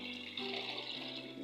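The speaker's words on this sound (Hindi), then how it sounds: "हल्का सा पानी डालेंगे ताकि ये" Water poured from a vessel into cooking gravy made with ghee, a brief steady splashing trickle at close range with no talking.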